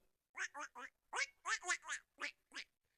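Someone mimics ducks quacking, a quick run of nasal quacks in short bursts, close and fairly soft, with a couple of brief pauses.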